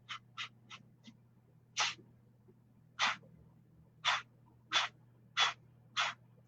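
A series of sharp, forceful nasal exhalations of kapalbhati yoga breathing, short puffs in a quick cluster, then slower evenly spaced bursts, close and alone over a low hum.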